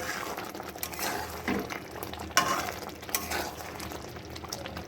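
A covered pot of chicken and spinach simmers and bubbles softly while being stirred, with scattered wet scraping and sloshing, occasional clinks of the spoon, close and moderately quiet, no talking.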